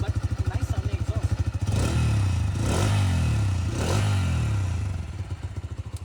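Bajaj Freedom 125 CNG motorcycle idling with a soft, even exhaust putter, then revved in a few rising pulls that settle back to a throbbing idle; close and clear, with no talk.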